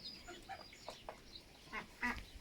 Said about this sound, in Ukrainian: На слідуючий рік гляньте на цю шипунку.